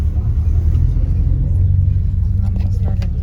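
Low, steady engine rumble inside a Kazan-Tour sightseeing bus, continuous and close, with a muffled voice faintly underneath.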